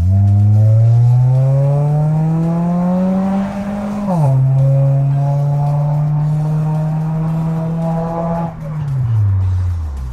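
A Honda CR-V 2.4 with a modified exhaust revs loudly and close, its engine tone climbing steadily, dipping, holding high, then falling away as the throttle drops, with no talking.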